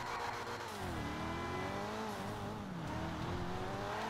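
A car engine in the racing game GTA 5 revving hard up to redline, a loud, rising and wavering mechanical whine that sweeps up and down in pitch, with no talking.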